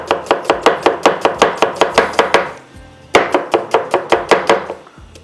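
Onion chopped with a knife on a cutting board, a fast steady run of sharp close knocks, a brief pause, then another quick burst of chops, with no voice.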